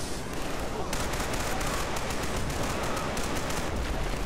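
Rapid submachine gun fire in the shooter video game Killzone 3, a dense continuous stream of automatic shots that grows brighter and sharper after the first second and keeps hammering steadily to the end.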